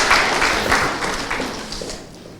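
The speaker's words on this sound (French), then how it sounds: "je vous prie d'applaudir très fort" Audience applause for a contestant at a final, dense clapping from a crowd, loud at first and slowly fading over a couple of seconds.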